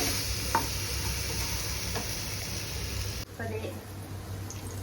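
Banana egg toast roasting in ghee in a pan gives a steady, close sizzle with a few soft scraping taps, briefly dropping off partway through before the frying hiss resumes.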